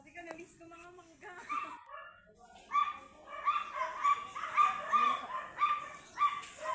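A big dog gives a string of short, high yips and whimpers in a rapid, repeated rhythm outdoors during a mango harvest, while people talk nearby.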